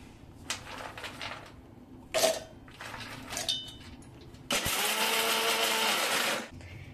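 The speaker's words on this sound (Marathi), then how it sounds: "आता हा आपला सर्व सुका मेवा आहे तो आपण वाटून घेऊया" Dry fruits ground in an electric mixer grinder: a few short clatters and handling knocks, then a loud, sustained whirring grind that runs for about two seconds before stopping.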